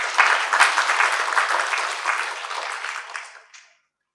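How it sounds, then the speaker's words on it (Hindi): An audience at a spiritual talk breaks into loud, steady clapping that fades out after a few seconds and then stops. "एक बार ताली बजाओ जरा"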